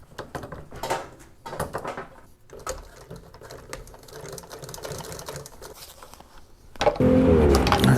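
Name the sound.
sewing machine top stitching motorcycle seat upholstery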